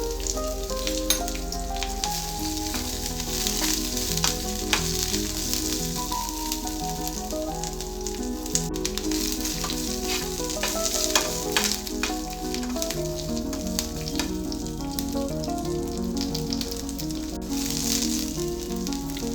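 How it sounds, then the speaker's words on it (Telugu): Green chillies, curry leaves and grated ginger crackling in hot tempering oil, a dense, steady close sizzle with sharp pops running the whole time. "పచ్చిమిరపకాయలు, కరివేపాకు, తురిమిన అల్లం వేసుకోవాలి."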